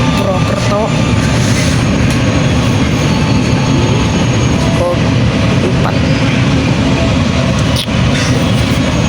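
Inside a KA Batavia passenger train from Gambir to Yogyakarta, a loud constant rumble of the carriage on the rails fills the space, with occasional clanks and a person speaking over it.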